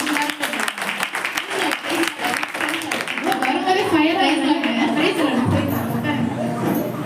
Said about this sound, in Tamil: அவங்களுக்காக ஒரு பலத்த கரகோஷம்